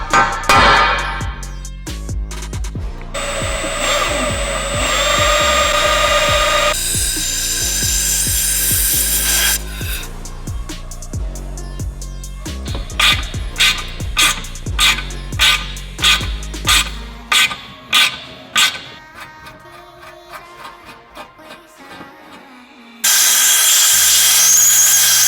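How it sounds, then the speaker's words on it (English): Power drill boring holes for M4 bolts into baffles for a 500whp Mitsubishi Evolution build, a run of loud, closely spaced bursts with whining motor tones and short pauses between holes, no talking. "Now I need to go through, drill all of these and tap them."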